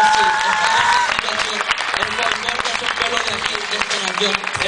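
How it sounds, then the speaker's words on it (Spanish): A crowd claps and cheers in a dense burst of applause, with voices mixed in throughout. "quien quiera del público que me dé un gran aplauso"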